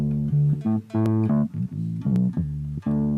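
Distorted bass guitar through a Zoom G1xOn bass sim patch, played on a high-output bridge humbucker with the tone knob rolled fully down, chugging short notes and held chords close and loud with brief gaps between.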